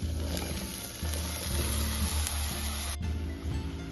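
Onions and chillies sautéing in a pan for ridge gourd chutney, giving a steady, moderately loud sizzle with a continuous broadband hiss and low hum, no talking.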